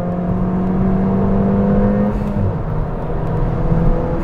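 A stage 1 Ford Fiesta ST with a short shifter pulls hard through its gears, a loud close engine note climbing in pitch, dropping briefly at a shift near the midpoint, then building again.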